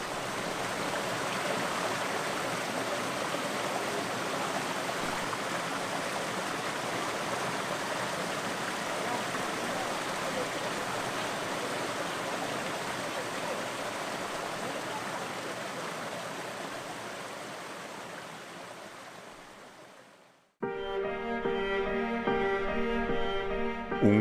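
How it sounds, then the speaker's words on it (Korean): Ojang Waterfall in Jeongseon plunges from a high cliff, a loud, steady roar of falling water that holds for about twenty seconds before cutting off abruptly, followed by a brief burst of music. "웅장한 절벽 위에서 거대한 물줄기가 떨어져 내립니다"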